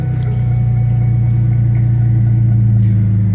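A Ford Mustang engine, either a 1967 or a 2001 model, idling steadily with a deep low rumble and even pulsing throb, loud and close, with no talking.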